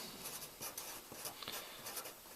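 Chalk or marker scratches across a board during a math lesson on ellipses and circles, a short stretch of soft, closely spaced strokes with no voices.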